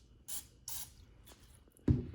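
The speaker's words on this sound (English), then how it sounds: "And then we're just gonna lightly spray the other side." Cooking oil spray lightly misted over breaded fish pieces before air frying for fish and chips: three short hissing bursts, then a louder thud or clatter near the end, close and fairly quiet.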